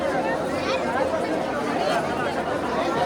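A packed crowd at the Pandharpur market in Maharashtra, with steady, loud, overlapping chatter from many nearby voices throughout.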